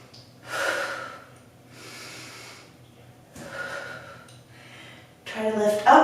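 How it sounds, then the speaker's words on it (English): During a yoga stretch in a strength workout, slow deep breaths come in long airy waves, several inhales and exhales in steady rhythm, close and moderately loud, ending with a stronger breathy burst. "And breathe."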